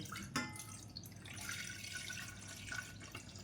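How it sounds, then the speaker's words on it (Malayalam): Water poured into a vessel in a kitchen while preparing a grape lemonade, a quiet trickling and splashing stream with a few drips, heard alone at low volume. "ഒരു പാത്രം വെച്ച് കുറച്ച് വെള്ളം ഒഴിച്ചു കൊടുക്കുകയാണ്"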